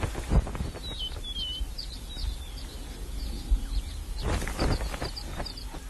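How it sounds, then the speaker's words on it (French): Southern ground hornbills calling to claim territory in the African wild, a series of faint, distant call notes heard over a low wind-like rumble and occasional bumps. "Ces bucorves du sud revendiquent haut et fort leur territoire."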